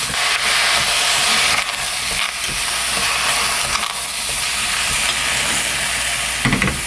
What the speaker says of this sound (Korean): 오징어도 같이 함께 무와 볶아줄 겁니다